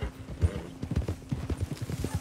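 Horse hooves clip-clop in a quick, steady gallop rhythm through the town of Rhodes in the Red Dead Redemption 2 video game, loud and close throughout.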